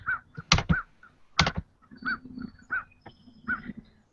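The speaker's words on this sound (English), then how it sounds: "And there goes crows." Crows call outdoors in a series of harsh, repeated caws, some louder and closer, with sharp bursts between them, and no talking.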